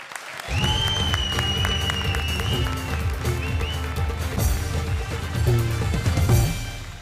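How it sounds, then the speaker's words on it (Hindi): A studio audience at a comedy face-off show claps loudly for a contestant, the applause thick and sustained with music or tonal sounds running underneath. "जोरदार तालियां"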